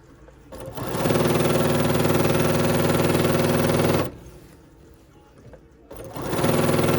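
A sewing machine stitches an embroidered crazy quilt block in two bursts, a fast steady whirring hum running for about three seconds, pausing briefly, then starting up again close and loud.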